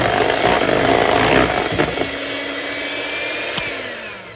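Food processor whizzing frangipane tart mixture, a loud steady motor whir close by that winds down and drops in pitch partway through.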